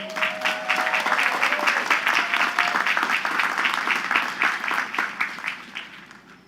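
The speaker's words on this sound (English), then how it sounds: "please give a big round of applause" A big round of applause from a college commencement audience greeting a vice chancellor, sustained dense clapping from a large crowd that fades toward the end.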